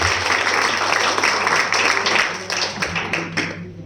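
Audience applause at a stem cell product talk, a dense steady wash of many hands clapping that carries on throughout with a low hum beneath, thinning slightly toward the end.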